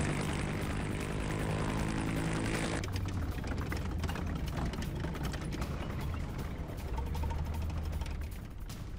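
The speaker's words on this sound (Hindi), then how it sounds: "हेलीकॉप्टर्स और टैंक्स के साथ अफगान फोर्स की वॉर ड्रिल की ये तस्वीरें देखिए जरा।" Aircraft engines drone steadily through an Afghan army war drill with helicopters and tanks, a loud continuous roar that shifts in tone partway through and holds to the end.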